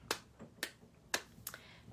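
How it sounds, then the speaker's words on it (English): Four gentle hand claps in an evening qigong session, tapping the heart meridians of the palms; soft, evenly spaced, quiet claps close to the listener with no talking. "We're going to clap very gently"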